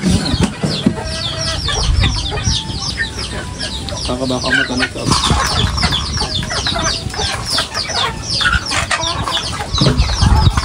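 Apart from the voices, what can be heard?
chickens clucking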